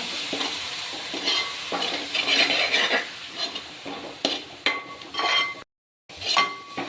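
A blended tomato mixture is stirred in oil in a frying pan, with a spoon scraping and clinking against the pan over a continuous sizzle. The stirring comes in uneven strokes, with a brief silent gap near the end.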